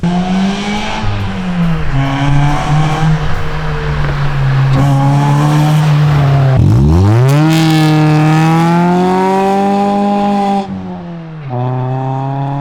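A modified Honda Civic with a worn clutch revs hard close by, its engine note climbing through acceleration, then dropping and surging again through downshifts before settling to a steadier drone.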